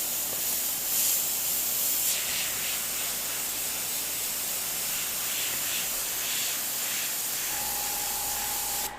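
Airbrush spraying green paint sends out a steady, close hiss that runs almost unbroken, with brief pauses and a faint tonal whine near the end.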